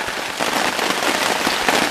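Steady, dense patter of rain falling on a camp tarp outdoors, loud and close, with no talking.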